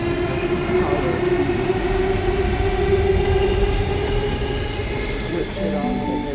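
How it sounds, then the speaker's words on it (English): Train pulling into a railway platform in Australia, a loud continuous rumble of wheels and carriages with faint metallic squeal, while a public-address announcement plays over it. "The next train to arrive on platform 4 does not stop at this platform."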